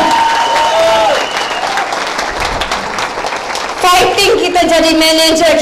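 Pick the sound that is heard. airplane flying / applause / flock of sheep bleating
applause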